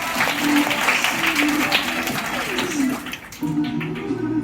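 An audience claps at a gathering in a dense patter of applause, with voices and sustained tones running underneath.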